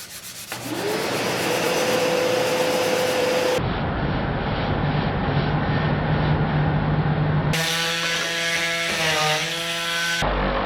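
A dust-extraction vacuum cleaner on a workbench drones loudly and continuously during indoor sanding, its pitch and tone shifting abruptly a few times as it is adjusted or moved.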